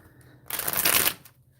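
Tarot cards riffled in a bridge shuffle, one quick close papery burst of about half a second, alone without talk.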